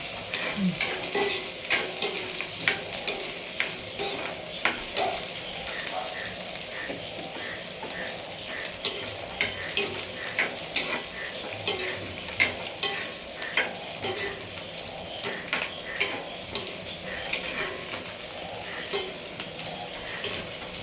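Slit green chilies sauté in a pan for chicken curry, a continuous sizzle broken by regular scraping strokes as a spoon stirs them again and again, close and fairly loud.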